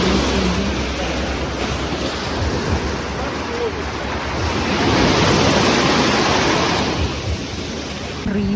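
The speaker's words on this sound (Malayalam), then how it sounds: "അപ്രതീക്ഷമായി മഴ പെയ്യുന്നു മാൽഡീവ്സിൽ." Unexpected rain falls at a Maldives water-villa resort, a steady, dense broadband hiss that swells slightly midway and holds evenly throughout, with no clear voices.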